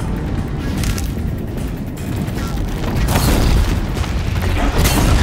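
A machine blows up in a video game's combat, a heavy sustained boom with crackling debris and rumble that swells and rolls on for several seconds.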